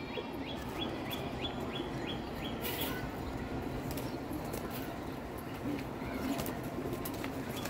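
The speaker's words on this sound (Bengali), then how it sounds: "ছাড়াছাড়ি লাইনের কালদম নর কবুতর।" Male Kaldom pigeons of the Charachari line coo steadily in a loft, a low murmuring drone with faint chirps from other birds over it.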